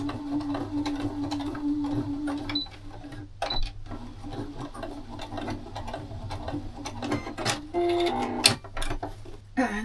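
A sewing machine stitches scrap fabric for a zipper pouch, its needle chattering in quick mechanical bursts with brief pauses and clicks between runs, fairly close and moderately loud.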